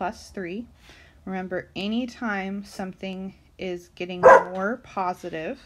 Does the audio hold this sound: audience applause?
no